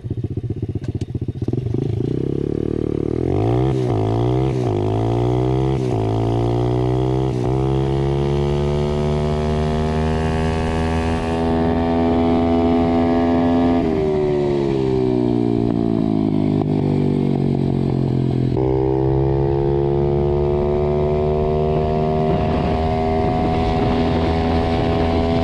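A Pitgang 125xd 125 cc motorcycle accelerates hard in a speed test, engine loud and close, pitch climbing steadily through several gear changes with brief drops between them, with wind noise buffeting the microphone.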